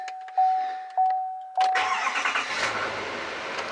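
A GMC Denali truck with an L5P engine cranks in two short bursts, then catches and settles into a loud, steady idle close by.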